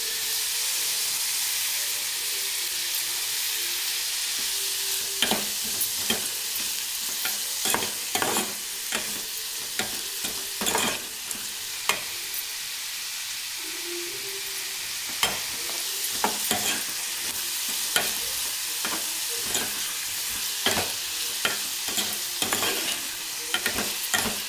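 Food fries in a salted pan for paneer curry, a steady sizzle and hiss broken by frequent spoon-against-pan stirring clicks, fairly close; no talking.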